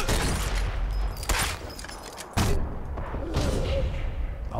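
Enemy gunfire in Sniper Elite 4, several loud close shots and thuds in quick irregular succession against a noisy battle background.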